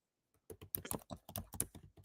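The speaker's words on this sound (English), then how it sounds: "I see you typing" Rapid typing on a computer keyboard in a quiet podcast studio, a quick run of close, crisp key clicks starting after a brief silence and continuing steadily to the end.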